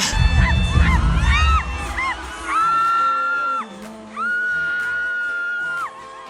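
A concert crowd lets out high, sustained shrieks and whoops in long waves, loud and close, after a burst of noisy commotion.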